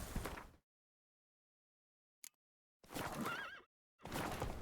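Roach the horse in The Witcher 3: Wild Hunt video game, a loud whinny heard in short bursts with silent gaps between them and a brief click in the middle.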